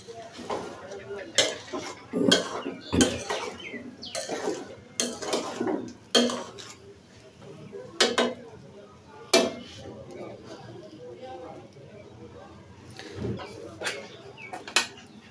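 Hilsa fish pulao rice is stirred in a pot with a metal spoon, giving intermittent scraping and clanking strokes in irregular bursts. A faint sizzle sits underneath, and a person speaks at times.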